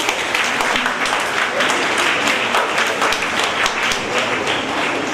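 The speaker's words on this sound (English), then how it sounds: "Round of applause" Steady applause from an audience at a school felicitation ceremony for pre-university students, dense continuous clapping at an even level throughout.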